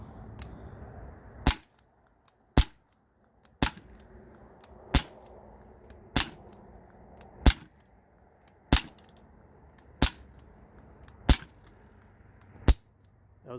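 Eleven sharp, evenly spaced cracks ring out from a replica Glock 19 CO2-powered .177 BB pistol, each shot crisp and snappy against a faint background hiss, with no voices.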